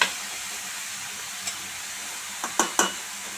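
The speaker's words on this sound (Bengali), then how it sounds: "নেড়ে চেড়ে মিশিয়ে নিতে হবে।" Bottle gourd leaves are stirred and mixed in a frying pan over a steady sizzling hiss, with a few quiet scraping knocks from the utensil against the pan, close and fairly faint.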